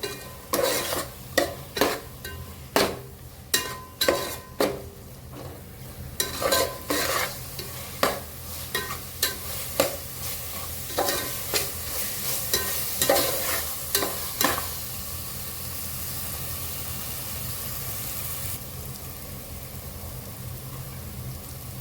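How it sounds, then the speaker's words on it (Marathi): Biryani masala spices stirred and fried in oil for prawn biryani, with a spoon scraping in quick repeated strokes over a steady sizzle that carries on alone after the stirring stops. "बिर्याणी मसाला तो घालून घेणार आहे छान तेल सुटेपर्यंत आपण मसाले परतून घेऊया"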